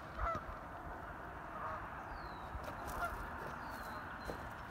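Geese honking as they fly over a river on an evening walk in Canada: a few faint, scattered calls at a distance over steady outdoor background noise.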